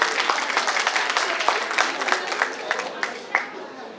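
Audience applause at a cultural event, a dense spread of many hands clapping steadily with scattered louder claps poking through, fairly close and sustained throughout.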